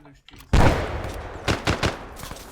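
Gunfire in an ArmA firefight: one loud close shot, then a few spaced, sharper reports and fainter distant pops.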